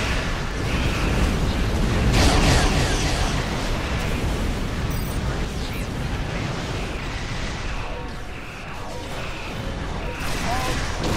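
Bomb going off in Star Trek Online, a dense, loud, sustained roar of blasts and crashing debris that fills the whole stretch, with game combat effects layered throughout and no pause.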